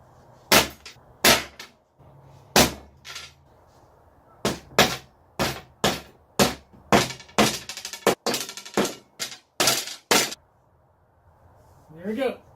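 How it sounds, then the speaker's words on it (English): An Arrow staple gun fires repeatedly into wooden rods, sharp close snaps in a loose irregular rhythm, about fifteen shots with short pauses between them and a brief clattering of handling at the end. "Let's load up the staple gun."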